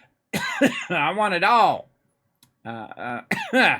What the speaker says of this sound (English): The coughing is getting going on